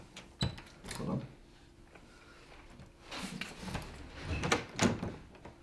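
A door being unlocked with a key and opened, heard as several sharp knocks, clicks and rattles in quick bursts spread across a few seconds, with a quiet room between them.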